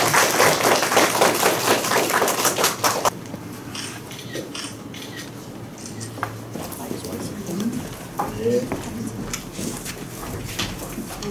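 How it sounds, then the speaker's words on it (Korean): Applause from a crowd at a public data supporters' launch ceremony, loud dense clapping for about three seconds that then drops away to a quieter room with scattered faint sounds. "큰 박수로 환영해 주시기 바랍니다"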